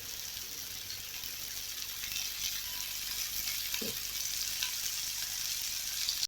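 Vanjaram fish shallow-frying in oil in a pan gives a steady, even sizzle and crackle throughout, with one brief soft knock partway through and no voices.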